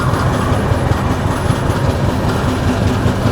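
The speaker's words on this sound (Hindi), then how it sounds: "ट्रेन अपनी कुछ ही देर में जो है गाजियाबाद स्किप करने वाली है।" Barauni–New Delhi Clone Express passenger train running near Ghaziabad, heard from inside as a steady, loud rolling rumble with faint clickety-clack of wheels, continuous throughout.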